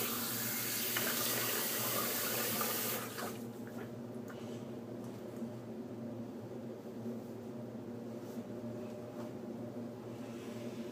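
Water runs from a tap to wet a head for shaving with a bronze safety razor, a steady rushing flow for about three seconds that stops abruptly, leaving faint dripping and quiet room noise.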